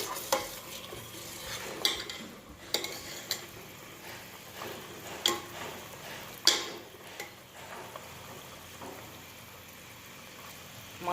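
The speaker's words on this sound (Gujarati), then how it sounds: "અહીંયા ઘી ગરમ થાય છે." Ghee made from fresh homemade butter heating in a pan, giving a quiet, steady sizzle and bubbling with occasional sharp ticks and a few stirring scrapes, no talk.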